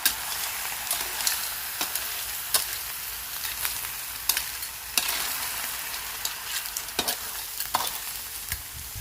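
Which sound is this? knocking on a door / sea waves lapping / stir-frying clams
stir-frying clams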